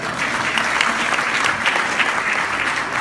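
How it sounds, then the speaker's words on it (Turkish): Strong applause from attendees at a food engineering congress, a full, even patter of many hands clapping together at close range without letup. "Bir daha kuvvetli bir alkış istiyorum."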